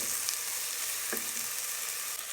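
Garlic, ginger and onion sauté together in a hot pan, giving a steady, dense sizzle that holds close and even throughout with a faint stir near the middle.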